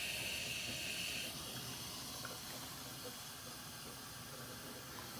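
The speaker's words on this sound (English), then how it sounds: "See the steam coming off of there. It's pretty hot." Steady broadband hiss of steam venting off a hot Rheem RETEX tankless water heater, continuous and fairly close, with a brief higher whistling tone in the first second before settling into a constant rushing sound.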